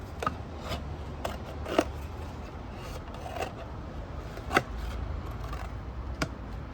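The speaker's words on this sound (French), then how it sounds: "il faut couper le fond de la brique" Scissors cut the bottom off a drink carton with scattered sharp snips and rasping scrapes at close range, spread irregularly over a quiet background.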